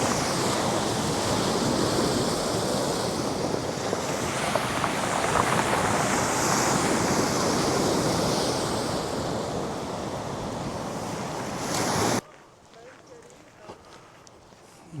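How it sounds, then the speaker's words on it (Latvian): Sea waves wash over pebbles on the Baltic shore near Užava lighthouse, a loud, continuous rushing roar with gravelly rattle and wind, ending abruptly in near quiet. "Jūras spēle ar akmenīšiem."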